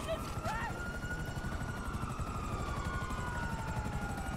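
A helicopter in the video game GTA Online, its rotor chopping steadily and loudly throughout, with a faint whistling tone overhead and a brief voice near the start.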